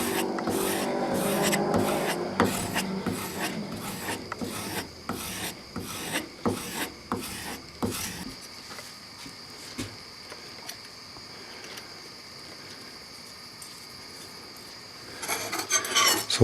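The front edge of a plane iron from a 1950s Record No. 4 hand plane is stropped in quick repeated rasping strokes for about eight seconds, then a quieter steady hiss follows and a few strokes return at the end.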